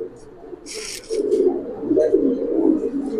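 A big pigeon of a fancy breed coos in low, throaty warbling phrases close by, with a brief rustle before the cooing swells and continues.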